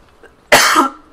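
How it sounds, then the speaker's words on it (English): A single harsh cough from the game Far Cry New Dawn bursts out close by, followed by the start of another. "I almost got spotted and my coughing kicks in"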